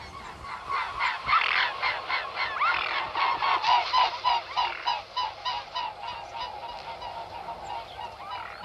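Wild swans call along the Morava River in early March, a loud, rapid chorus of honking, trumpeting cries that pulse in quick succession, then gradually thin and fade, with no voices.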